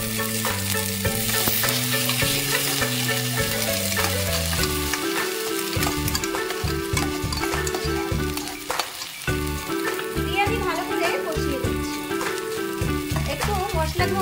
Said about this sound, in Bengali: দিয়ে আমি ভাজা ভাজা করে দিয়ে দিচ্ছি বাটা মশলা।